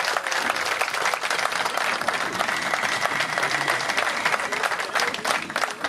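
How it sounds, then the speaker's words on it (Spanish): A crowd at a charity livestock auction during a provincial buffalo festival breaks into loud, sustained applause, a dense continuous clatter of many hands lasting throughout with no pauses. "esto merece un fuerte aplauso"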